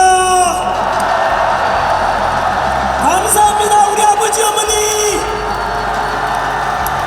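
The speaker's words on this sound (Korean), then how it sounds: "큰 함성과 함께 박수를 부탁드립니다." A rally crowd in Gwangju cheers and applauds loudly and steadily throughout, with someone speaking into an amplified microphone over the noise.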